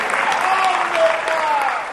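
Audience applause at a religious discourse gathering in Agra, a dense, steady clapping wash with faint voices underneath, lasting a couple of seconds.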